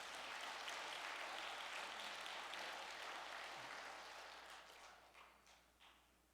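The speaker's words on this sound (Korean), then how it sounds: "천상의 우리 박희정 학군양을 위해 감사와 영광의 박수를 보내십시다." A congregation claps in tribute at a memorial gathering, a moderately distant wash of applause that holds steady, then thins and tapers off toward the end.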